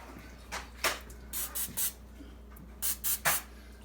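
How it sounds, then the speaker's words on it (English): Several short hissing sprays of olive oil cooking spray onto a grill in quick bursts, two clusters of three or so, close by and fairly loud against a quiet background hum. "Olive oil. I use the spray because it's easy and it's clean."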